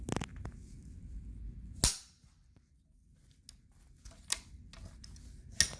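The breech lever of an 1874 Sharps rifle being worked, producing a few sharp, crisp metallic clacks spaced seconds apart over a quiet background.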